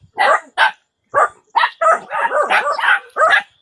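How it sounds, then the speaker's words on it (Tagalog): Several close, loud dogs bark in quick bursts, some yips overlapping into a rapid flurry toward the end. "Ingay kasi ng mga aso dito eh."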